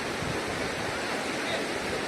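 Palpala river water rushing steadily, a dense even wash of flowing water heard up close with no breaks.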